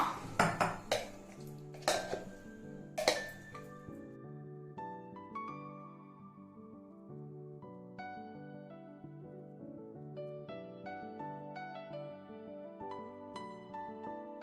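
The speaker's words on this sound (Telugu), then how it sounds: "ఈ ఉప్పు కారం వేసిన చింతపండు గుజ్జుని కలుపుకుందాం" Metal utensils clink and scrape against a pot, a few sharp knocks at first, then softer ringing taps as salted, spiced tamarind pulp is stirred into broad beans.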